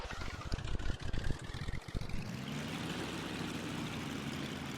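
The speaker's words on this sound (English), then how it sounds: "We'll get this engine cranked up." A twin-engine Cessna 310 in the X-Plane 11 flight simulator cranks over with rapid uneven starter chugs, then catches and settles into a steady, droning propeller idle.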